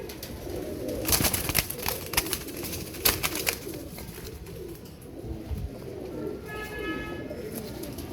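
Royal Teddy pigeons coo steadily in a loft, a soft continuous burble with scattered wing flaps and clatter, and a brief high chirp near the end.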